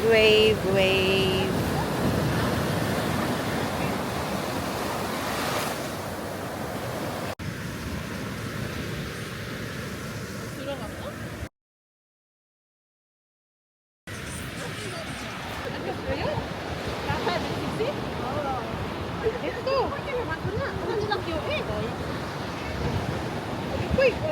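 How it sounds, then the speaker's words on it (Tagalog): Ocean surf at Jumunjin Beach in Gangwon, South Korea, a steady wash of breaking waves mixed with wind buffeting the microphone, broken by a brief silent gap. "And the wave."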